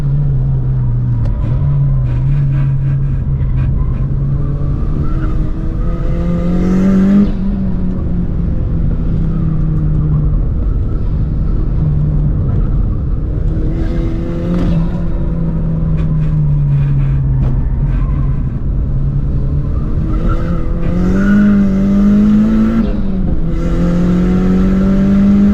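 A cheap turbocharged sleeper car's engine revs hard and high on a race track, pitch rising and falling through gear changes in a steady loud drone, heard from inside the car.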